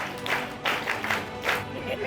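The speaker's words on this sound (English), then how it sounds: "put your hands together" An audience at a community bike challenge event claps in a few short, uneven bursts of scattered applause, with voices mixed in.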